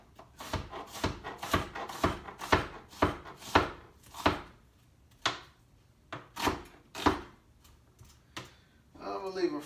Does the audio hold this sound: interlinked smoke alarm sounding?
no